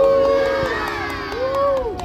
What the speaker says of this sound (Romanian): Când zic Uval, dumneavoastră strigați numele, iar dumneavoastră uiduiți